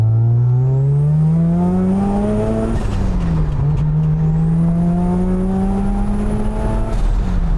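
A street-legal time-attack Mazda FD RX-7 turbo engine accelerates hard and loud, pitch climbing through two pulls with a sharp break and gear change between them, a whistling turbo whine riding above the roar.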